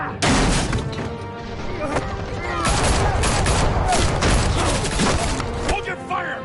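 Rapid bursts of gunfire ring out in the Batman Telltale video game, dense and loud crackling volleys with booms, while a voice speaks over the shooting.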